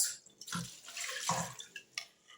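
Milk being poured into a cooking pot for homemade Greek yogurt: a splashy, gurgling stream of liquid with uneven surges and drips, close by and without talk.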